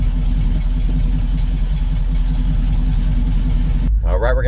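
A 1970 Chevrolet C/K 30 pickup engine runs steadily with the exhaust valves open, a loud continuous low rumble heard from outside that cuts off abruptly near the end, followed by a brief voice.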